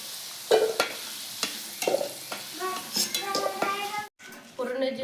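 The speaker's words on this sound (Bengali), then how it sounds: "আলুটা সুন্দর লাল লাল করে ভেজে নিচ্ছি" Salted potato pieces fry in oil until reddish-golden for a chicken and pea ghugni, with sizzling and scraping stir strokes while a voice talks over the pan.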